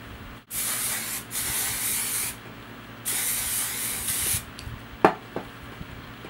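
Christophe shaping hairspray spritzed onto short hair, three long hissing bursts separated by pauses, close and clear, followed by a couple of faint handling taps.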